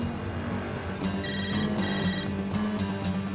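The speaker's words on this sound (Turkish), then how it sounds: "telefon çalıyor" A telephone rings in a tense indoor drama scene, its electronic tone sounding in two short bursts over a steady background hum.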